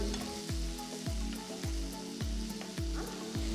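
Finely cut tomato pieces fry in a pan with golden-brown onions under a constant sizzle, while a spoon stirs with regular dull knocks about twice a second.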